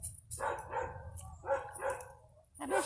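Dogs bark in several short bursts while being fed fish, close and fairly loud. The yaps come in uneven pairs with brief pauses between them.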